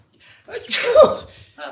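A single loud, close sneeze bursts out during a live stage play in a village hall, framed by brief breathy vocal sounds before and after.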